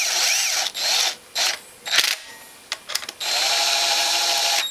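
A power drill tightens bolts on a Honda Fourtrax 300 ATV engine during assembly, in several close, loud whirring bursts of varying length separated by short pauses, with a long sustained run at the end.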